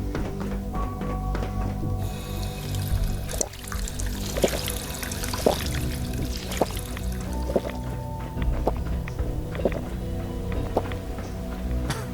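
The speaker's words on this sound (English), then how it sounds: "Drink some water." Liquid pouring and dripping from drinking water in the video game Fallout 4, a steady wet gurgle with repeated soft drip-like clicks over a dense background of game music and ambience, no talk.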